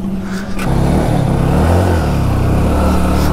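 A Hero Passion Pro 100cc motorcycle moves off at the start of a road ride in Rajasthan, its engine rising into a steady close drone with rumbling wind buffeting, loud and without talk.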